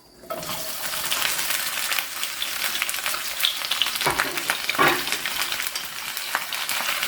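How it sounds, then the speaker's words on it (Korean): Onions stir-frying in a little oil in a pan over high heat, a steady close sizzle with scraping stir strokes and brief bursts of louder hiss, no talking. "이제 양파를 볶아 보겠습니다."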